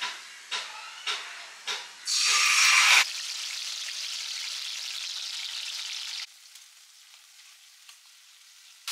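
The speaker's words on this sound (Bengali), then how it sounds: "তার আগে এই ম্যারিনেটটাকে ভালো করে কষিয়ে নেব" Spiced marinade frying in mustard oil for hilsa biryani: a few quick stirring clinks, then a loud burst of hissing sizzle that settles into a steady, quieter frying hiss before fading to faint crackles.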